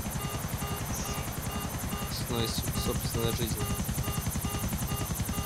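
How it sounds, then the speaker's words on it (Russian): Helicopter rotor from the GTA 4 video game, a steady loud rapid chopping drone throughout, with people talking over it. "уронить на кого-нибудь этот вертолет на голову лопастями попробуй."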